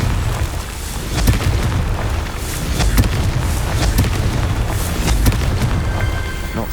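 Loud booming blasts of the Confringo spell in the video game Hogwarts Legacy, a dense rumbling wash of repeated explosive bursts and crackles that continues without a break and with no talking.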